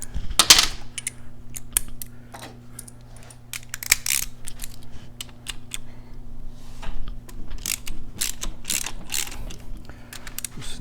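A ratchet wrench on a 1/2-inch socket loosens the transmission bolts of a Harley-Davidson Sportster during primary disassembly, giving bursts of close, sharp clicking with pauses between bolts over a steady low hum.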